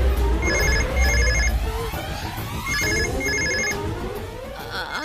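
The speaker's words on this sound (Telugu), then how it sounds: "Uncle, phone మోగుతుంది." A telephone rings in two double bursts of bright trilling bells, loud and close, over a low background hum, with no talk.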